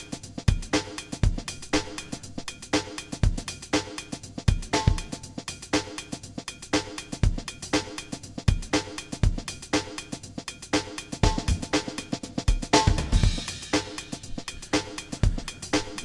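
A sliced breakbeat plays back on a 1010music Blackbox sampler, with punchy kicks and snares in a steady, busy drum rhythm heard loud and alone.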